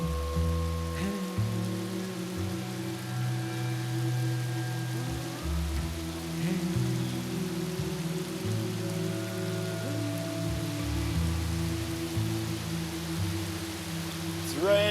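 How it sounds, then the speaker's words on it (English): Rain falls steadily in Jamaica, a continuous even hiss of drops on surfaces lasting throughout, with a low droning tone underneath. "It's raining."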